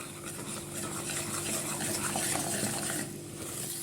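A thick dessert batter with ground walnuts and baking powder is stirred in a bowl, giving a continuous soft scraping and squelching at moderate level. A faint steady hum sits underneath, and no one speaks.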